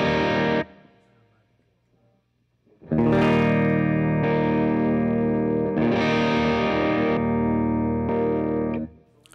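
An electric guitar rings out clean, then after a pause chords crunch through heavy distortion from a modified Boss DS-1 Tri Roxx Plus pedal, sustained and loud, with no talking.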